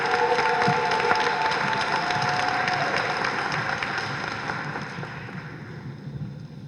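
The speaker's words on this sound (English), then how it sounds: "Let's please give all our promotees and 2306 COPA a big round of applause" An audience gives a long, loud ovation of clapping to newly promoted correctional officers at a commencement ceremony, dense and sustained before gradually thinning toward the end.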